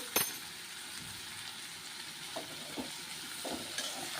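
Fried rice sizzles and crackles steadily as it is stir-fried in ghee in a pan, with occasional scrapes and clinks of the spatula against the metal, close and moderately quiet, with no talking.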